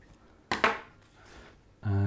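Scissors trimming flower stems for a wedding bouquet: two crisp, close snips in quick succession, then a steady low hum takes over.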